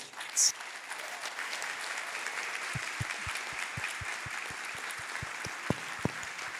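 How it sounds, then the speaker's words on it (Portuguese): Applause in a hall at an academic conference opening in São Luís, Maranhão, honouring the students: a soft wash of clapping that settles into distinct, evenly spaced claps standing out near the end. "a quem eu peço uma salva de palmas para os alunos aqui"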